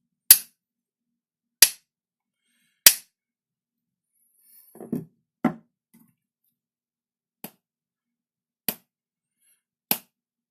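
A Stanley rubber mallet strikes a surface alone in a quiet space: six or seven sharp, evenly spaced knocks, each dying away quickly, with a brief cluster of softer handling noise partway through.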